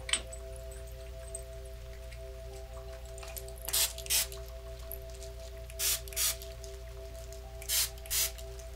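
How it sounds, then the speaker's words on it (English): A small bottle of chamomile spray misted in several soft short bursts, heard in pairs at a close distance, set against a steady low hum and quiet rain-like background. "Just spraying a little bit of this. This is just a chamomile spray."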